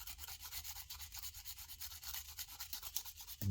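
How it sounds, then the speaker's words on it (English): A Conte à Paris crayon is ground against sandpaper in quick, repeated scratchy rubbing strokes, soft and close, with no talking. "Grind it to the sandpaper."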